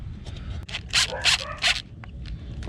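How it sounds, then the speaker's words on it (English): A cutter snips through a diesel heater's fuel line in three quick crunching bursts, close and fairly loud, over a low steady background rumble. "I'll need to cut this line. So just cut him so it's a clean cut."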